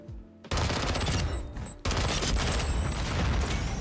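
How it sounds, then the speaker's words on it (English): Semtex grenades launched and blowing up after a kill in Modern Warfare 2, heard as a sharp onset of loud, dense explosive bursts, a brief dip, then another sustained barrage of booming detonations and gunfire, close and dominant. "It just launches random Semtex grenades if I get a kill."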